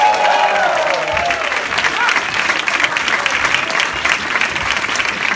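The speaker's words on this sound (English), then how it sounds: "Make some noise for Umar Khan." A stand-up comedy audience in Baltimore claps and cheers loudly and steadily, a dense wash of applause with scattered whoops running the whole time.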